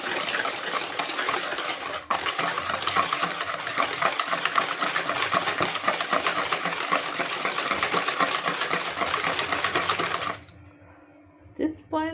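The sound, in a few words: whisking sugar into beaten eggs for pineapple cake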